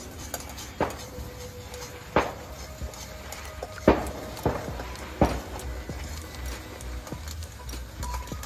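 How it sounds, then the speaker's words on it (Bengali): Ghee-fried semolina is stirred little by little into sugar syrup in a pan for milk cake, with scattered spoon-on-metal clinks, scrapes and a few sharper knocks over a low background hum, and no voices. "এবারে আমি ঘিয়ে ভাজা সুজিটা আস্তে আস্তে দিয়ে দেবো। অল্প অল্প করে দিতে হবে আর নাড়তে হবে।"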